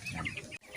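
Broiler chickens around 45 days old in a hot-weather poultry house cluck and chirp steadily at close range, many birds overlapping in a busy, continuous murmur with a brief dip near the end.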